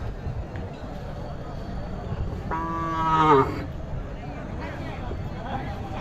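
A native cow moos once at a busy cattle market, a clear drawn-out call of about a second standing out over a steady crowd murmur and background bustle, with people talking nearby.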